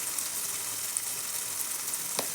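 Salt, turmeric powder and spice masala fry in a pan, giving a steady, soft high crackle with a brief scrape near the end and no voices.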